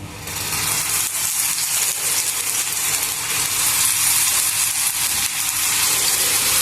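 Bottle gourd thalipeeth fries in oil in a pan over a medium gas flame, giving a steady, loud, close sizzle that hisses on continuously without voices.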